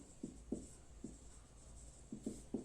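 A pen or pencil writes on paper while someone works a geometry problem on circle perimeters, making soft rhythmic scratches in short strokes with brief pauses, close and quiet over low room hiss.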